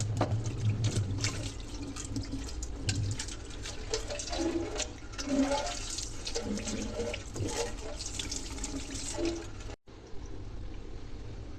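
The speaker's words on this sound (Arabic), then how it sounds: "بصي بقى هنشطف الحوض" Water running into and rinsing a bathroom sink, a continuous splashing hiss with gurgles and scattered clinks, moderately quiet, cutting briefly near the end before resuming.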